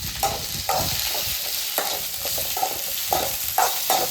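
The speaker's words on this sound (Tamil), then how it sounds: "கொஞ்சமாக காய்க்கு தேவையான அளவுக்கு உப்பு போட்டு வதக்கிக்கலாம்." Broad beans sauté with salt in a pan, giving a steady low sizzle. A spatula scrapes and stirs at a regular pace, with no talking.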